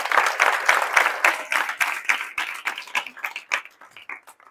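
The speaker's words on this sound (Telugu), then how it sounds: "క్లాప్స్ కొట్టండి ఆ పాపకు." A crowd of girls at a government SC welfare girls hostel claps in applause, a dense burst of hand claps that thins into scattered, fading claps.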